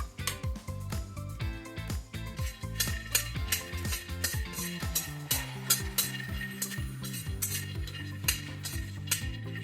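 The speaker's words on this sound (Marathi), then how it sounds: "आता आपण शेंगदाणे भाजून घेणार आहोत" Peanuts dry-roast in a pan over low heat for gulpoli, with a steady run of scraping, rattling stirs against the metal. The strokes repeat closely and evenly, close up, and no one talks.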